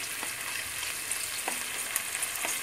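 Pepper and tomato paste frying in a pan, a steady close sizzle with occasional faint clicks of stirring, no voices.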